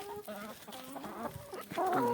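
Several chickens cluck and murmur close by in a busy, overlapping chatter, with a slightly louder squawk near the end.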